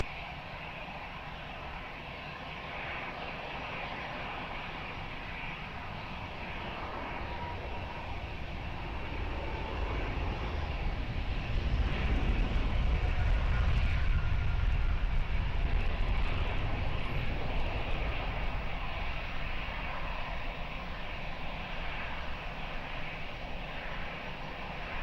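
Heavy airliner, Canada 810, on approach to runway 20 at Lisbon Airport: a steady jet engine roar that swells and peaks mid-way, then stays loud, continuous and moderately near.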